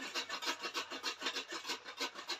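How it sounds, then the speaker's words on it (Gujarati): Fresh carrots rubbed back and forth on a hand grater for carrot halwa, giving a fast, even rasping rhythm of close, gritty strokes with no voices. "બધા ગાજર છીણી લઈએ આમ કરી"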